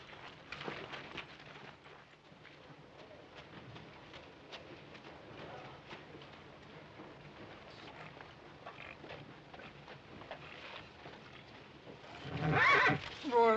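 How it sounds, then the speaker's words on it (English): A horse gives a loud, close whinny near the end of a long, quiet stretch in a Western setting, after faint background sounds and muffled voices. "Horse."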